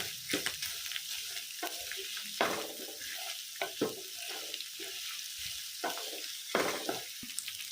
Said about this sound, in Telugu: మీడియం ఫ్లేమ్లో స్లైట్గా ఫ్రై చేసుకుందాము.